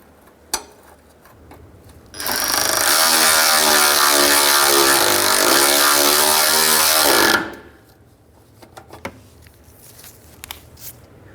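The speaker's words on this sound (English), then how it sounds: "we're going to thread in our bolt." Power tool driving in an A/C condenser bracket bolt on a 2003-2011 Honda Element, one loud continuous whirring burst of about five seconds framed by faint clicks and handling noise.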